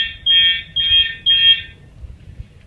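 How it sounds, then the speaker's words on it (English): A piezo buzzer on a Unimode ADT 9050UD fire alarm system sounds three loud, shrill pulses in a steady rhythm, then stops, leaving a low hum. "There's a piezo buzzer."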